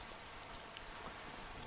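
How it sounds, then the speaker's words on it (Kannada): Steady rain from the Minecraft video game falls as a dense, even hiss that fills the whole short stretch, with no breaks or distinct drops standing out. "ಮಳೆ ಬಂದ ಗ್ರಾಫಿಕ್ಸ್ ನೋಡು ಗುರು, ಮಳೆ ಬಂದರೆ ಗ್ರಾಫಿಕ್ಸು"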